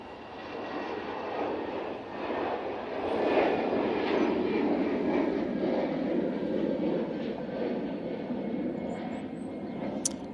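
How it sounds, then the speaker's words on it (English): An easyJet Airbus A319 takes off at Manchester Airport, a broad steady jet roar that swells a little after a few seconds and holds, heard from a distance with no talk over it. "And that Easyjet is off to Alicante."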